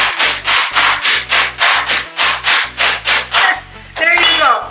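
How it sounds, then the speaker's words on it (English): Pork slices pounded flat on a board, a loud run of about a dozen regular thumping strikes with a scraping, rubbing texture, ending in a rougher shuffle. "Okay, so I'm going to pound this. We're making a little noise."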